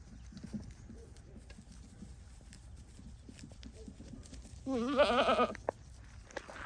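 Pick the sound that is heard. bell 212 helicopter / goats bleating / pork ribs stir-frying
goats bleating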